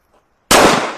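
A single sharp, loud gunshot cracks after a moment of near silence, then rings out and fades.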